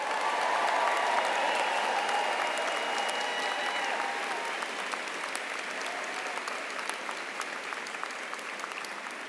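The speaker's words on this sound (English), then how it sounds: "Can we give the class of 2026 one more round of applause?" A large commencement audience at Denison University gives a sustained round of applause for the graduating class, dense and continuous, gradually easing slightly in loudness over nine seconds.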